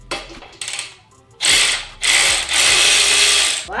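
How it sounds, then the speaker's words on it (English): A cordless ratchet loosening a bolt on a Harley-Davidson Road King during teardown: a short ratcheting buzz, a brief pause, then several long loud whirring bursts close by, with no talk. "Let the ratchet do the job for you."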